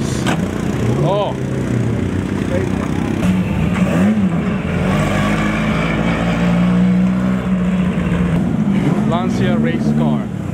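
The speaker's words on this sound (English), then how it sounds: "Lancia race car." A Lancia race car engine drives past at a concours car show, a loud revving drone rising and falling over several seconds amid crowd noise, with people talking throughout.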